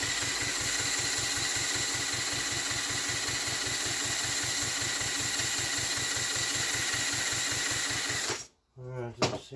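A rebuilt Honda ST50 motorcycle engine runs at a fast, even idle, a steady putter close by, before cutting out abruptly near the end, with a short voice and handling noise after it stops.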